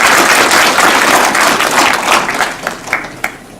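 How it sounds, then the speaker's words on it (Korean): An audience at a launch ceremony for a decentralization constitutional reform council in Jecheon claps, a loud dense burst of applause that fades toward the end into a few scattered claps. "큰 박수 부탁드리겠습니다"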